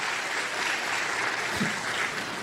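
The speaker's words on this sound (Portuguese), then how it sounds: "Eu queria que os homens aplaudissem essas mulheres aí." Men in a church congregation clapping, a continuous even patter of applause from a crowd that holds steady throughout without a break.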